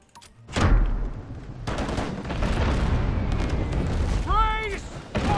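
In the Abandon Ship naval video game, explosions and gunfire strike a ship, giving heavy booms and a sustained rumbling barrage, with a brief rising whistle near the end.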